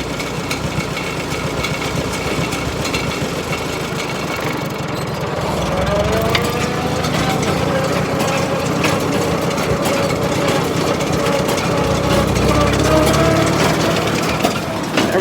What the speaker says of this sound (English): So start up the baler here, let you guys watch that happen.